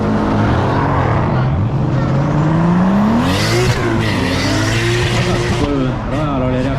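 Race cars launch hard at the start of a drag race, engines roaring loud and close with rising revs and tire squeal, sustained throughout under a continuous broadband wash.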